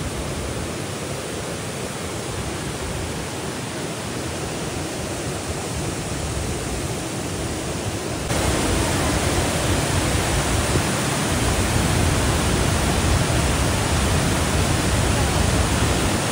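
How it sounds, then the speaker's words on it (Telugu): A waterfall in Munnar pours through drizzling rain, a steady broadband roar of rushing water that grows noticeably louder and fuller about halfway through, continuous and close with no pauses. "ఆ డ్రిజిలింగ్తో పాటు వాటర్ ఫాల్స్ ఇక్కడ."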